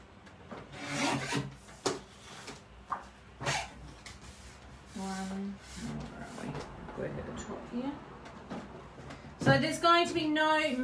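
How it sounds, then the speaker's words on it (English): Paper trimmer or blade slicing and rasping through cardstock while making simple greeting cards, in repeated short strokes with scraping, alongside a voice talking throughout. "Now I'm just going to trim them back a little bit before I cut them back again."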